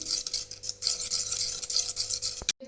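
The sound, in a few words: mixing flour dough with white oil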